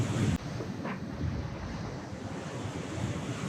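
Big ocean waves surge and wash around a Lagoon 46 catamaran sailing in up to 40 knots of wind, with steady wind buffeting the microphone and a loud gust at the very start.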